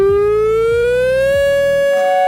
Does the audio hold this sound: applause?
no